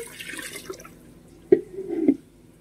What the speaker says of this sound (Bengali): দেখো মাংসটা দিয়ে এখানে আমি কিন্তু গরম জল ইউজ করছি।